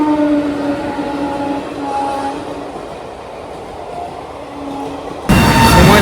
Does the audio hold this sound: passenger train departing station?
yes